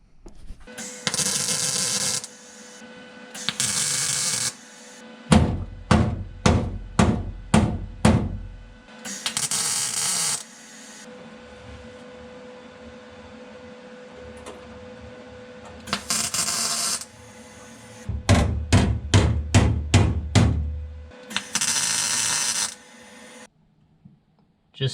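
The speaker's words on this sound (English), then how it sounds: "I'm gonna fire up the old MIG welder here and start sticking her together." A MIG welder lays welds on trunk floor patches in a Barracuda, loud crackling buzz bursts of a second or two alternating with rapid runs of short tack-weld pulses, separated by quiet pauses.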